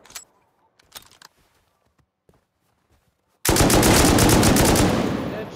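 Automatic weapon fire in the console version of the video game Rust, a sudden long loud burst of rapid shots following a few scattered quieter clicks and thuds, close and dense.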